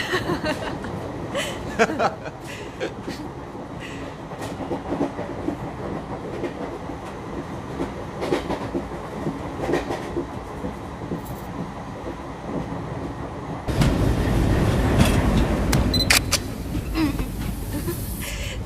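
A passenger train rolls steadily along its rails in a Hindi film scene, a continuous rumble with faint rhythmic clatter that grows louder and fuller near the end, with a few brief voices over it.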